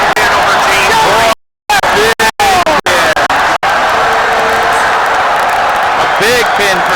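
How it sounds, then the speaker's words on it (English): Arena crowd at the 2014 NCAA wrestling championships roars and cheers after a big pin, with sustained loud babble and whoops throughout and a brief gap near the start. "the whole auditorium's up cheering"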